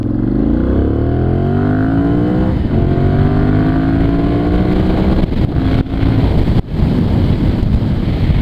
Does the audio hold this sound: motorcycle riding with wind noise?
yes